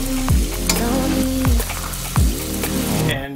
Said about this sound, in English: And you place those unformed burgers with salt and pepper on the griddle.